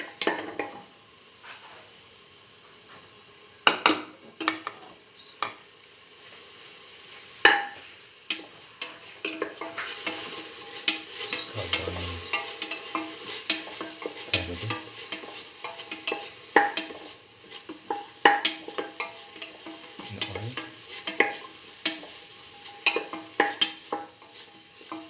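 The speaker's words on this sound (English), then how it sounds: "Keep on sauteing." Onion pieces sauté with salt in a pan, a continuous soft sizzle broken by frequent scraping stirs and clinks of a utensil against the pan, with occasional low thumps.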